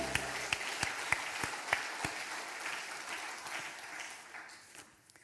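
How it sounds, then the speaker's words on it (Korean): A church congregation claps together during Sunday worship, a steady wash of applause with a few sharper claps standing out early, gradually thinning and fading toward the end. "박수로 하나님께 영광 올립니다"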